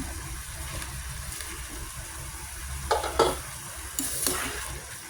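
Food is sautéed in a pan for a home Sunday lunch, with a steady low sizzle and a few clattering stirs and scrapes near the end, and no talking.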